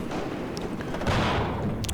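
Sustained battlefield gunfire in the real-time strategy game Warno, with French flamethrower sappers firing on US Rangers: a dense, continuous crackle of shots with dull thuds, swelling louder past the midpoint and carrying on without pause.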